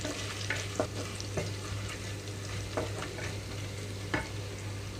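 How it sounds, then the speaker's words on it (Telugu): Ginger and garlic frying in oil over medium flame for bagara rice, a steady close sizzle broken by occasional sharp scrapes and clicks of a spoon stirring the pan, with no talk. "అల్లం వెల్లుల్లి వేగేటప్పుడు మంచి స్మెల్ అయితే వస్తుంది అంతవరకు కూడా చక్కగా మీడియం ఫ్లేమ్లో ఉండి కదిలిస్తూ వేయించుకోవాలి"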